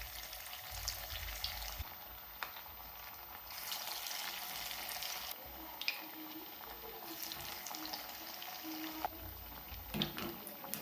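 Dough balls deep-frying in hot oil in a kadhai, a quiet steady sizzle and bubbling hiss with occasional small clicks and stirring taps, close but low in level.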